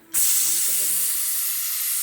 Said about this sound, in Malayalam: അഞ്ചാറ് വിസിൽ വന്നണേ